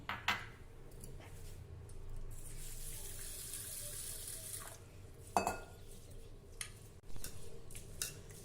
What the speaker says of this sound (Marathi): सर्वप्रथम एका मोठ्या भांड्यामध्ये आपण हा तांदूळ धुवून घेऊया